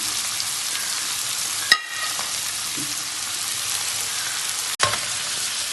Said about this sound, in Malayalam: സവാള മുരിഞ്ഞ് വരട്ടെ.